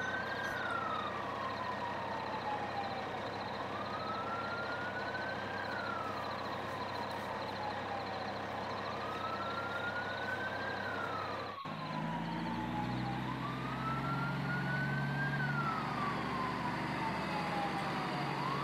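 A police siren from an animated chase wails in long rising and falling sweeps, steady and loud over a truck engine drone, its pitch pattern shifting slightly partway through.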